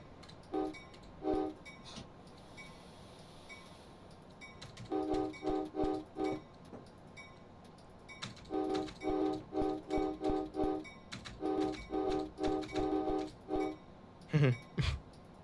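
An Amtrak locomotive horn in Train Simulator sounds a long patterned sequence of short and held chord blasts, loud and close, with rail clatter and faint background noise between them.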